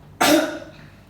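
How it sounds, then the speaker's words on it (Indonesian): A patient gives a single sharp, forceful cough during chest physiotherapy, close by, loud at first and then trailing off into a breathy tail. "tarik nafas, tahan, batukan"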